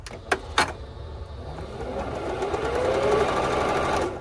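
A Singer 7528 sewing machine, just repaired of an E4 error, starts up after two clicks and runs for bobbin winding, a steady motor hum and whir that rises slightly in pitch and continues to the end.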